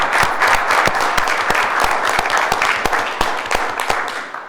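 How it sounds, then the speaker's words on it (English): A council meeting audience claps for Charlie in a sustained round of applause, with dense, overlapping claps from many hands at an even level throughout. "I think we owe Charlie a round of applause"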